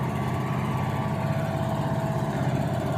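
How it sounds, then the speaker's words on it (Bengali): A motor boat's engine drones as the boat leaves the shore on a seaside trip. The engine note is steady and moderately loud throughout, with no speech. "এই যে নৌকাটা ছাড়লো"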